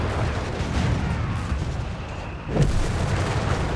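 Bishop self-propelled artillery firing in Company of Heroes 3, deep booming shots heard amid a dense battle rumble, with a sharper, louder blast toward the end.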